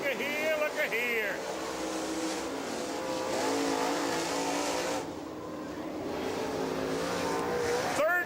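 Super late model race car on the Rome Speedway oval in Georgia, its engine roaring and revving loudly as it speeds past, with a track announcer talking over the noise throughout.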